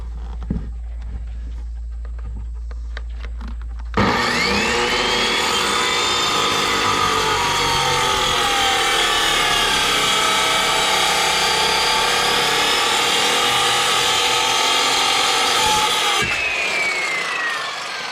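A power saw cutting through a wooden faceplate on a cabin porch close to the cabin wall, a loud continuous whining buzz for about twelve seconds after a quieter start, then stopping abruptly.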